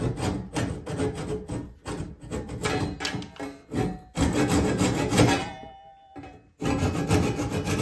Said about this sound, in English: But this is a DeWalt pull saw.